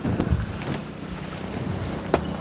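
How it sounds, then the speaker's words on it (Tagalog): Wind buffets a microphone outdoors at a nipa hut, a steady low rushing roar with gusty swells and no talk over it. "Yan, medyo may hangin na."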